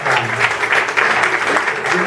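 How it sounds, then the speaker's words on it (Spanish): Studio audience on a Argentine TV talk show bursts into loud, dense applause, sustained clapping that continues steadily throughout, with no speech over it. "fuerte aplauso para Arnaldo"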